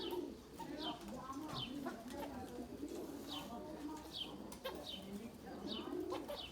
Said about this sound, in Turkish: Kanat sesleri.